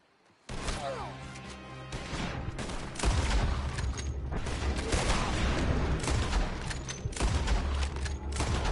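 Gunfire erupts in the Wild West video game Red Dead Redemption 2, a sudden barrage of overlapping shots and crashing impacts that keeps going loud and dense with no break.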